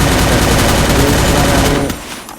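Rapid automatic gunfire in a first-person shooter video game rattles in a dense, loud burst for about two seconds, then tapers off.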